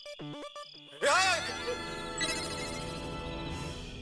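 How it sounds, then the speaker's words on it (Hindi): A mobile phone ringtone plays a short, bright, stepped melody, then breaks off as a louder shimmering chime and steady background noise take over in a comic sitcom scene. "मोबाइल की रिंगटोन सुनाई दे रही है"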